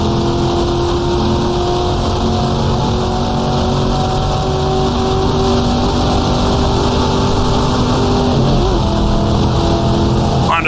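A 1966 sports car racing at Monza in the GTR2 sim gives a loud, continuous engine drone with steady harmonic tones down the straight and a brief shift in pitch near the end.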